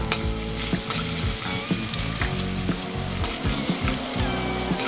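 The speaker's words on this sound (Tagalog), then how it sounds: "ipiprito lang natin ng konti yung ating onion" Onion frying in a pan as a topping for Kapampangan bistig pork steak, giving a steady, loud, continuous sizzle with faint stirring and utensil clinks throughout, no voices.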